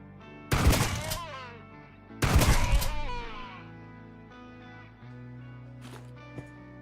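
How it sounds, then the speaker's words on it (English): Two loud shotgun blasts ring out in a Halo-style shooter game, the second about 1.7 seconds after the first, each with a long ringing decay. Quieter game sounds and a brief click follow. "shotgun"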